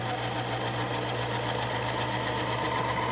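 Singer Electronic 4814 sewing machine winding thread, a steady close motor whir with a faint rhythmic mechanical rattle running continuously, no voices.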